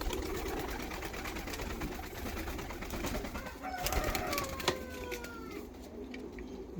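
Fantail pigeons cooing softly and somewhat distantly amid a busy background of rustling, flutters and faint chirps, with a brief louder burst partway through.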